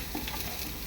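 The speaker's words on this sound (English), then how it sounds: "oil is heated like this" Hot oil sizzling and crackling steadily in a home kitchen pan, a continuous close hiss with no talk over it.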